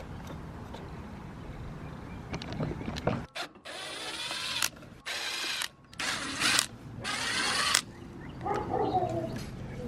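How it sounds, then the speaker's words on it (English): Screws being driven out with a power tool or ratchet while removing a side mirror on a Toyota 4Runner, several close, loud bursts of whirring and clicking separated by short pauses. "Unscrew these guys."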